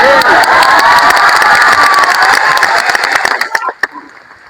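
An audience at a motivational success-story talk claps and cheers loudly, a dense burst of applause with shouts that thins out and fades over a few seconds.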